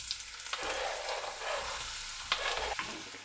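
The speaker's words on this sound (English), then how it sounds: "I'm going to fry these until they are golden brown" Pieces sizzling in hot oil for a chicken korma, a steady close frying hiss with a few stirring clatters, no voices.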